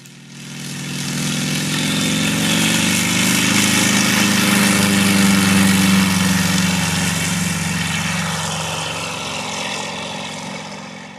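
A small propeller plane's engine drones steadily nearby at Coulter Field airport in Bryan, Texas, its pitch sliding slightly as it swells and then fades over several seconds.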